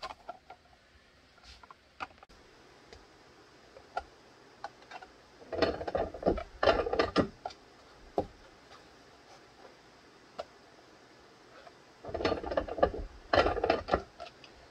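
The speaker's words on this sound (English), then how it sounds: "This is a 2-ton arbor press, so just a little bit of pressure sends it." A 2-ton arbor press riveting Walther P99 parts in a homemade jig makes scattered light metallic ticks, then two bursts of rapid clicking and grinding clatter as pressure is applied, close and fairly quiet.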